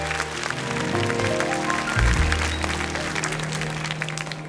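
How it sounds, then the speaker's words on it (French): A TV studio audience at a children's talent show applauds a young boy with steady, even clapping that fills the whole few seconds, with music tones running underneath. "Quel grand Mathieu, qu'on applaudit."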